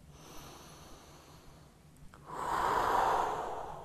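Steady breathing during a kneeling yoga lunge sounds close by. Soft airflow builds into one fuller, louder exhale near the end.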